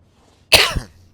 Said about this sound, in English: Sorry, I'm coughing today.